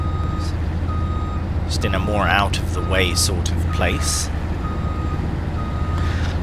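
A lorry in Farming Simulator 22 reverses with a steady engine rumble underneath, while evenly spaced warning beeps sound repeatedly through the clip and someone talks over them.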